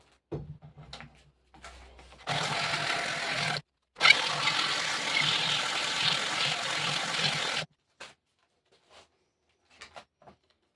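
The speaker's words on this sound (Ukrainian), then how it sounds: "Зараз її наждачки трошки пошкрябаю, щоб привести її до ладу." Continuous scratchy rasping of sandpaper on wood in two sustained passes, with a brief pause between, then a few light taps and quiet.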